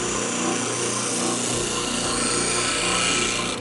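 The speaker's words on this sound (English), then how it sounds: "So when I use a spindle sander, I never stop moving unless I first pull the board away from the spindle." A spindle sander grinds steadily against the edge of a wooden board, a continuous close, loud abrasive whir with no pauses and no voices.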